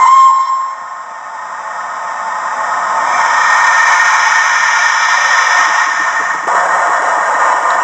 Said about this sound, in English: Let's get the whistle going and we'll set off.